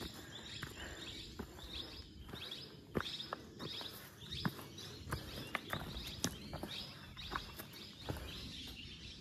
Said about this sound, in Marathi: पक्ष्यांचे एवढे भारी आवाज येतात ना